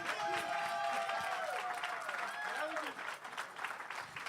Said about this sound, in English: give Keith the proper round of applause